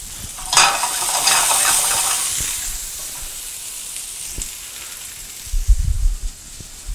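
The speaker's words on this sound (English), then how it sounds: "I'm gonna cook that, saute it a little bit through." Zucchini seasoned with salt and pepper sautéing in a pan over medium to medium-low heat, a steady close sizzle and hiss with scraping stirs, a few utensil knocks and a louder clatter near the end.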